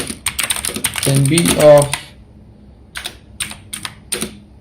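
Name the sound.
typing on a computer keyboard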